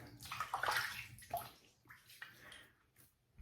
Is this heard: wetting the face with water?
yes